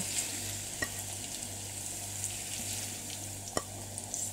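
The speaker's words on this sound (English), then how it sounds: "we want to let the chicken brown on both sides" Chicken pieces browning in a hot pan give a steady close sizzle, with occasional sharper pops and scrapes over a low constant hum.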